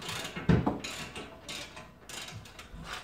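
Ratchet clicks from a wrench tightening a part under load while an airbag jack supports a Nissan R32, heard as a few quiet, scattered mechanical clicks and ratcheting bursts with no talk.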